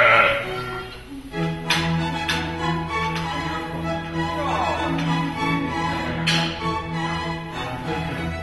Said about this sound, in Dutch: 60 lammetjes lopen er al rond.